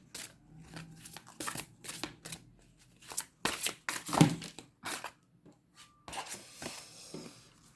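Tarot cards shuffled by hand in a quiet room: a run of quick papery riffles and soft flicks, close and crisp, with short pauses between bursts and no voices.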